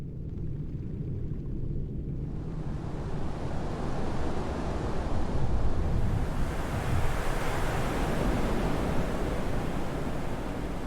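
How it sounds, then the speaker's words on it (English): Ocean waves washing onto a beach at night, a dense, continuous roar of surf with wind-like rushing noise, loud and steady throughout with no voices. "Listen to the sound of the waves."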